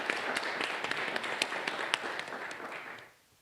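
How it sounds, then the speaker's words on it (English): Audience clapping at a clinical research conference, a steady patter with distinct individual claps for about three seconds before dying away to silence. "Please give us a round of applause as she makes her way to the stage."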